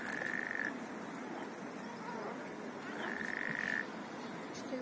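Frogs croak in a dense outdoor chorus, with two clear, ringing croak bursts rising above a steady background of many calling frogs.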